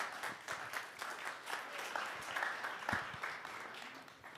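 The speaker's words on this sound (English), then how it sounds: "Will you give Aiden, my friend Aiden, a big round of applause as he comes this morning?" Audience applause for a person coming on stage at a church live stream, a moderately distant, fairly quiet crowd clapping steadily for several seconds.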